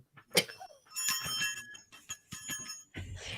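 A bright bell rings several times in quick succession, clear and close, with short ringing tones and a brief pause before a final low rustle.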